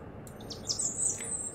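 Bird chirps in the video game Underground Blossom: a few short, high tweets sound over a soft steady ambient background and grow slightly louder toward the end.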